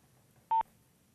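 A single short telephone keypad tone sounds once, loud and clear, as a call is placed during a live television broadcast, with quiet background hum before and after.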